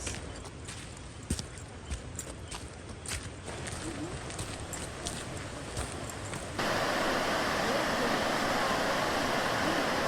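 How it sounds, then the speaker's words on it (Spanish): The Otún river flowing down from the Otún lagoon along a trail in Ucumarí Regional Natural Park, Colombia, giving a steady, full rushing of water with some faint knocks and steps, growing louder and broader partway through. "En gran parte del camino vamos encontrando el río del Otún, esta agua que baja desde la laguna del Otún."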